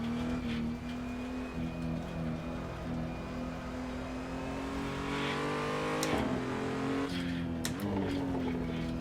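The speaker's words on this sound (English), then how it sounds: "you hear the crackle of the exhaust" Sustained engine hum from a racing car in the Assetto Corsa sim, revs climbing then dropping through shifts, punctuated by scattered crisp exhaust pops near the end.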